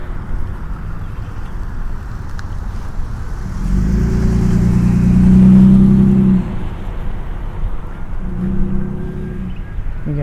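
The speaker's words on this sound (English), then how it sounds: "The truck's coming." A truck passes by on a road near a flower garden at Mesa Community College, its engine rumble swelling to a loud close peak and fading, followed by another softer vehicle passing, with no talk.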